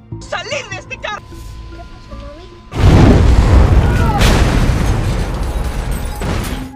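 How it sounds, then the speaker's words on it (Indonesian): A sudden loud car explosion bursts in after a few seconds of quieter sounds, followed by a sustained roaring, crackling rumble that slowly fades. "tidak lama setelah itu terjadilah ledakan"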